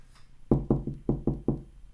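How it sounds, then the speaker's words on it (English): Someone knocks on a bedroom door, six sharp wooden raps in an uneven quick rhythm, close and clear in a quiet room. "That's our bedroom door, by the way. That's not someone knocking the front door."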